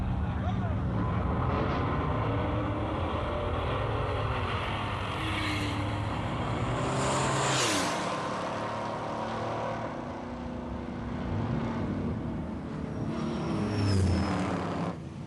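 A 1970 Buick GS and a Buick Grand National roar down a drag strip side by side, engines revving loudly and then fading into the distance with wind rush, while a commentator talks throughout.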